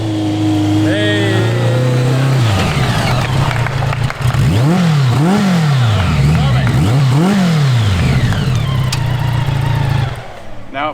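A KTM 525cc engine in a cross kart idles and drones loudly, then revs in repeated rising and falling surges as it drives around close by, before settling back near the end.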